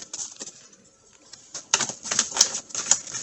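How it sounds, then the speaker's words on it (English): A deck of tarot cards is shuffled up close, producing quick crisp snapping and riffling clicks in short bursts, with a quieter pause before a busier run of flicks. "So I'm just shuffling the cards right now."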